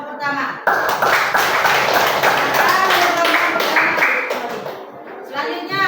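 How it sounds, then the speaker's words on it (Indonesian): A classroom group gives applause to the first presentation group during a Pancasila values lesson: loud, dense clapping rises abruptly and carries steadily for several seconds before tapering, with children's voices mixed in. "kita beri aplaus untuk kelompok pertama"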